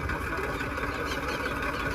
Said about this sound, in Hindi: दाऊ अभी के पापा चला रहे ट्रैक्टर, बहुत दिनों बाद चला रहे लगता। खेत की कर रहे हैं जुताई